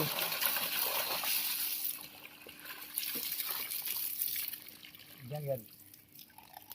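Water from a 900W BLDC solar pump pours and splashes into a tank with a hissing rush that fades and returns, and a voice briefly speaks near the end.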